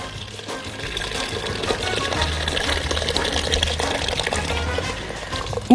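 Water boils at a rolling bubble, a steady churning, gurgling wash close by with no one speaking.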